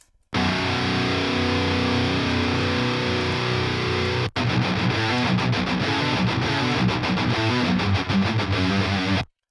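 Heavily distorted rhythm guitar played through an amp model with a vintage cab and boost engaged, dense and loud. A sustained chord gives way after a brief cut to fast, tight chugging riffs, alone without voices.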